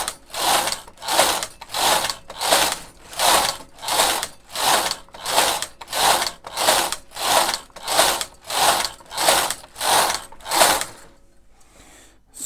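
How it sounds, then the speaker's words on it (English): A knitting machine carriage is pushed back and forth across rows of waste yarn, making about fourteen rhythmic ratcheting swishes at a steady pace, close and loud, before stopping, with no talking. "then you just knit the required amount of waste yarn that you need."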